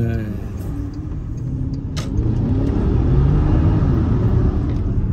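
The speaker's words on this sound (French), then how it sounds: "La voiture." A car engine runs with a steady, deep rumble that grows slightly louder partway through, with faint voices underneath.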